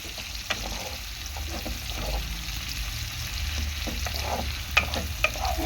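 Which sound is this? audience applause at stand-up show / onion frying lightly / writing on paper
onion frying lightly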